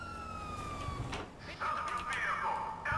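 Police car siren in GTA 5, a rising and falling wail with a second tone cutting in partway, under steady background game noise, no talk.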